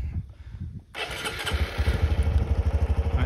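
A Honda CT Trail 125 motorcycle engine cranks and catches after a quiet moment, then settles into a steady, close, thumping idle with a regular low pulse, loud and alone.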